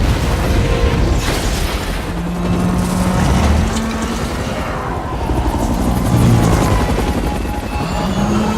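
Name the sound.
helicopter in a Terminator movie scene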